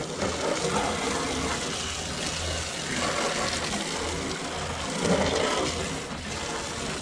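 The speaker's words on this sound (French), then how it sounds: "ce qui coule, ce sont toutes les impuretés, toute la saleté du bois" Dirty water running and splashing off a teak boat deck during cleaning, a steady broadband wash of flowing water that stays even and close throughout, with no voices.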